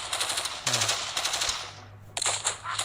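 In the mobile game State of Survival, loud sustained automatic gunfire rattles in long continuous bursts, fading briefly before another volley starts near the end.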